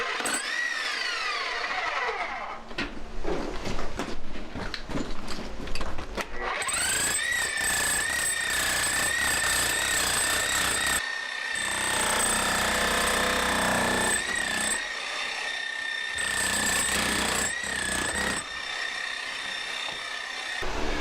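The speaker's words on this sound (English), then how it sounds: "use a jackhammer to take out a shower" A jackhammer breaks out a shower during a bathroom remodel, hammering loudly and steadily up close, mixed with grinding, scraping and a high whining tone, with brief pauses between bursts.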